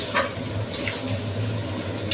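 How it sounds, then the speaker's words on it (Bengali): Chili chicken stir-frying in a pan in a home kitchen: a steady low sizzle with soft scraping and a few brief clinks of the utensil against the pan, recurring irregularly, no talk. "বেশ কিছুক্ষণ ধরে এটা নাড়াচাড়া দিয়ে ভেজে নেব"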